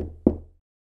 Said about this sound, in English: Soon Little Red Riding Hood came and knocked on the door.